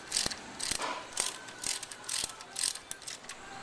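A hand ratchet clicks in quick bursts while tightening carburetor bolts on a car intake, about eight short sharp ratcheting strokes in a row, close and fairly quiet with no talking.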